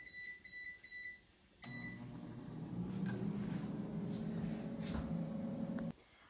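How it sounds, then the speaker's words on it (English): An air fryer cooking Trader Joe's kimbap at 400 degrees Fahrenheit. Faint beeps come first, then the appliance starts with a steady fan hum and whir that runs for several seconds before cutting off abruptly. "Now the air fryer is done cooking"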